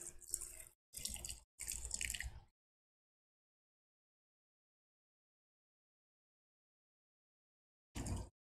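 Water pours onto garden plants in three short splashing bursts, each under a second, followed by a long silence and then one more brief pour near the end. The pours are close and moderately quiet.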